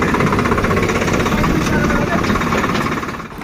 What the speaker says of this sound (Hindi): लो ट्रैक्टर लगा दिया है